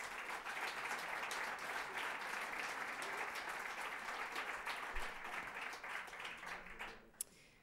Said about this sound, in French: On peut déjà les applaudir chaleureusement.